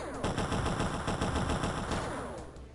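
Rapid cannon fire from an aircraft attacking a UFO in the video game X-Com, a dense, continuous stream of loud shots with no pauses.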